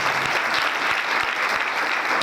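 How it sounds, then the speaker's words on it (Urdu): A church congregation at a Palm Sunday service applauds for Jesus, loud, dense clapping from many hands sustained evenly throughout. "تالیاں کم ہے یسوع کے لیے."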